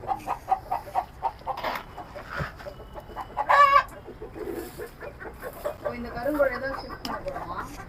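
Black karunkozhi chickens on a rooftop terrace farm cluck intermittently, with a sharp, louder squawk partway through. Nearby voices talk over most of the clip.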